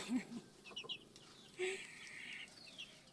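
A few soft, low clucks from a chicken, close by but quiet, with faint background noise and no talking.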